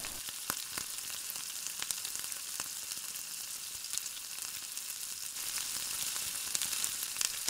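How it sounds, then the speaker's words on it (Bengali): Paneer pieces fry golden in oil in a pan over a medium-low gas flame for a Bengali paneer pasanda, giving a steady, close sizzle with scattered sharp crackles and pops throughout. No one speaks. "ভালো করে পনিরের পিসগুলোকে দু পিঠ গোল্ডেন করে ভেজে নিতে হবে, আর এখানে গ্যাসটা মিডিয়াম লো ফ্লেমে থাকবে।"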